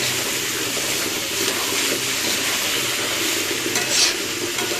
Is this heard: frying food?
yes